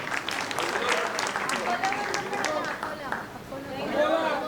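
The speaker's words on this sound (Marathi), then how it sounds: "मिरजकरांसाठी टाळ्या." Applause from attendees of a family clan gathering's opening session, greeting the group from Miraj, ringing out in a dense, steady burst with crowd chatter mixed in throughout.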